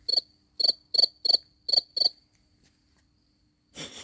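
A cricket chirps at night in a garden, sharp, close pulses in a quick series of six that then stops, followed by a brief rustle.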